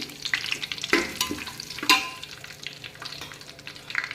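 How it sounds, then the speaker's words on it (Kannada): Mint, fennel, cinnamon, cloves and kasuri methi fry in oil for hotel-style vegetable pulao, a close crackling sizzle broken by a few sharp spoon-against-pan knocks and stirring scrapes, with no speech. "ಪುದೀನ, ಸೋಂಪ, ಚಕ್ಕೆ, ಲವಂಗ ಎಲ್ಲ ಎಣ್ಣೆಗೆ ಹಾಕಿದ್ದೀನಿ"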